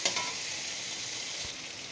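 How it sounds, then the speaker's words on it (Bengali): Chopped bottle gourd dropped into hot spiced oil in a pan for a prawn dish, sizzling and frying steadily up close while being stirred, with a small clatter at the start. "এই যে কেটে রাখা লাউটা দিয়ে দেব। দিয়ে সুন্দর করে মিশিয়ে নেব মশলার সঙ্গে।"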